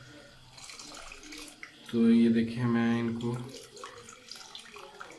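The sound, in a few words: draining water from soaked rice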